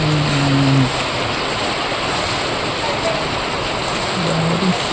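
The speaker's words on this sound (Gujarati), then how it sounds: "જો વરસાદ ચાલુ છે" Steady rain pours continuously at close range, a dense even hiss throughout, with a few brief faint tones near the start and end.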